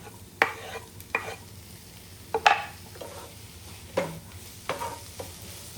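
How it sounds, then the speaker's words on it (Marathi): Chopped tomato is stirred into onions frying in a pan, with a handful of scattered spoon scrapes and clinks over a soft sizzle, close and fairly quiet. "टोमॅटो आहे कट केलेला तो ॲड करूया"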